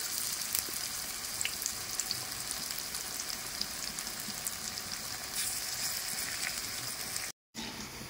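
Banana flower fritters, made from a lentil batter, frying in hot oil with a steady, dense sizzle and crackle close up that runs unbroken, apart from one very brief dropout near the end.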